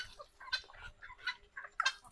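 Soft, scattered clucking from a few chickens, short bursts spaced irregularly, fairly faint and close by.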